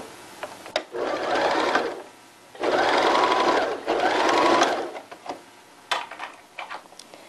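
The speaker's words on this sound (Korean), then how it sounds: "옆선 박음질을 합니다." A sewing machine stitches the side seam of underwear fabric with a 1 cm seam allowance, in three close, rapid runs of a few seconds each, separated by pauses filled with small handling clicks.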